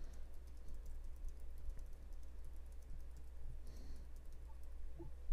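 Fingers tap on a computer keyboard in quick, irregular bursts of light clicks, fairly quiet and close, over a low steady hum.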